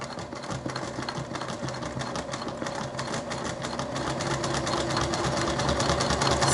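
A sewing machine stitching fabric for a crossbody bag, fastening fabric flowers in place: a loud, close, steady rapid mechanical whir with a fast needle clatter that grows slightly louder toward the end.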